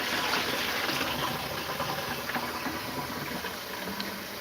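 A kitchen tap runs water for a quick rinse of a dish, a steady close hiss of flowing water with faint clatter, continuous and fairly loud, no talking.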